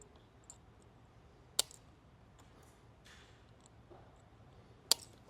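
Wire connectors are snipped off during a navigation light wiring install on a boat: two sharp, isolated clicks of cutters a few seconds apart, close and quiet, with faint handling noise between.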